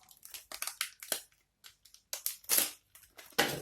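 Someone cuts into a tough board game promo package, producing bursts of crackling plastic and cardboard with sharp snips and pauses between them, close and quiet, with no talking.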